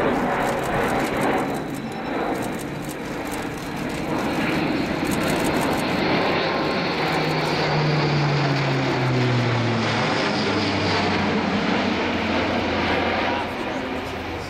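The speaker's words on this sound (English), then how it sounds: "this display showing the full impressive envelope of this very manoeuvrable aircraft, despite its size" An Airbus A400M Atlas transport aircraft performs a flying display at RIAT 2015, its propeller engines droning loudly and steadily and shifting in pitch as it passes, with a commentator talking over it.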